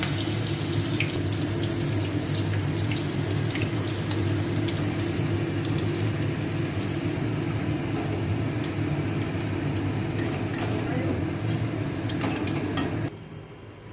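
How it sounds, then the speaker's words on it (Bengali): Khesari lentil fritter batter, sweetened with a little sugar and milk, hisses in hot oil as a loud, steady sizzle that runs unbroken for most of the stretch before dropping away abruptly near the end. "তেল গরম হয়ে গেছে, আমি দিয়ে দিচ্ছি"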